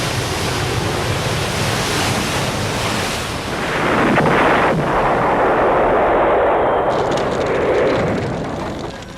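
The Greek-flagged oil tanker Mar Egeo, loaded with 80,000 tonnes of oil, explodes at sea, heard as a loud, sustained, rumbling roar that swells and surges for several seconds, mixed with a windy, crashing wash.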